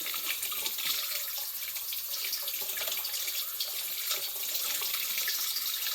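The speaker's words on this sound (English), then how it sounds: "I'm using cold water because I don't know if warm water would do anything to them, so I'm just going to use cold water." Cold tap water runs steadily over dandelion roots being rinsed, a continuous close hiss and splash of water in a sink with no pauses or talk.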